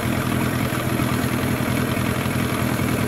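A 15hp outboard motor runs in a test bucket during a thermostat test, giving a loud, steady throbbing engine drone that stays constant throughout with no talk.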